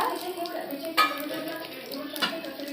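Whole garam masala spices and a bay leaf frying in a pan, a soft sizzle with two distinct clanks of a utensil against the pan and some quiet stirring.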